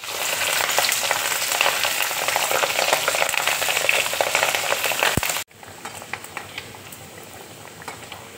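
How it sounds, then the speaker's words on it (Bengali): Grated coconut frying in hot ghee in a wok, a loud steady sizzle and bubbling that runs unbroken, then drops abruptly to a quieter, crackling sizzle for the last few seconds. "এবার আমি নারকেলগুলো ঘিয়ের মধ্যে দিয়ে দিচ্ছি।"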